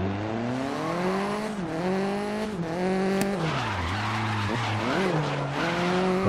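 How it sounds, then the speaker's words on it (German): A race car in the racing video game GRID slides through a time attack run, tires squealing continuously over a loud, rising and falling engine whine, with no talk. "Dass wir das Auto schön ins Rutschen gekommen"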